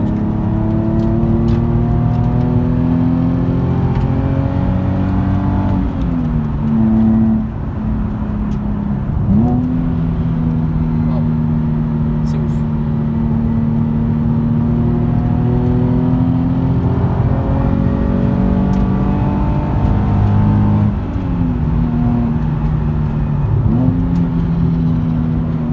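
Car engine held at high revs near a 7500 rpm limiter, loud and continuous with strong harmonic tones that dip and recover with brief rev changes and a metallic edge, no talk over it.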